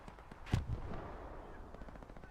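Gunfire in the World War II shooter Hell Let Loose during a competitive match: a single sharp shot stands out amid a low, continuous battlefield rumble, with a couple of fainter reports after it.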